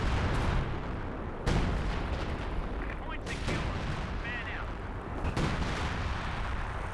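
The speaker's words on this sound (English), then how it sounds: "we've got some major artillery being brought on in" Artillery barrage in Company of Heroes 2: dense, continuous rumbling explosions and gunfire with several heavier impacts standing out, loud throughout.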